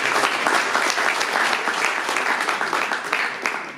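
An audience at an evening community event applauds, with many hands clapping in a sustained, even patter throughout.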